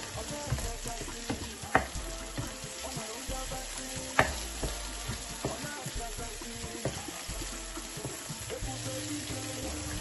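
Scotch bonnet pepper being stirred into egg sauce frying in a pan, giving a steady sizzle with occasional spoon scrapes and clinks against the pan, close and continuous, with no talking.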